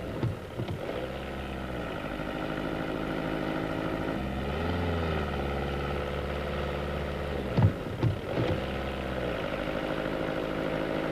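A VW Golf 3 Ecomatic's 1.9-liter diesel engine with catalytic converter runs steadily, its low harmonic drone rising briefly as the accelerator is pressed, then settling, with a couple of short clunks near the end.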